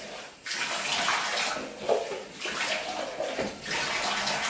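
Water runs steadily into a bathtub being rinsed clean after a baking soda and vinegar scrub, a continuous close splashing rush with small shifts as the stream moves across the surface.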